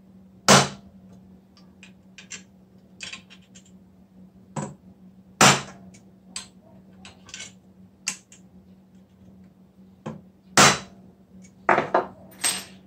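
A worn 1/8 inch transfer punch is struck to mark rivet holes while building a rotary press, sharp metallic taps ringing out singly and in short clusters over a quiet shop hum, with long pauses between blows.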